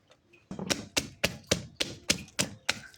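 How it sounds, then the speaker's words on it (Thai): Garden-grown chili peppers are pounded in a mortar while Thai food is cooked. About eight sharp, hollow thuds land in an even rhythm, roughly two per second, up close with no voices. "ตำพริกแหลกแล้วนะครับบัดนี้"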